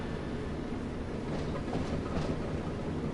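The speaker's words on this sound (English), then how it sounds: "getting to drive it on this line, driving it as a working locomotive" A working locomotive driven on the Tees Valley line in Train Sim World, running with a steady broadband rumble and faint rhythmic rail clatter, continuous and moderately loud with no talking.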